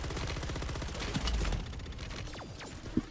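Rapid bursts of SMG fire in MW3 Zombies, a dense rattling stream of shots for about two seconds, then sparser single cracks and a sharp report near the end, loud and close with no talking.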